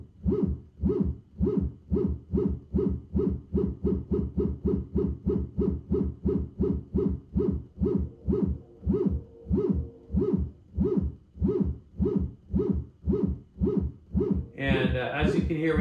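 A synthesizer sequencer repeats a short pulsing note in a steady, even pattern that gradually speeds up as its LFO is adjusted, loud and close, ending with a brief burst of noisy texture.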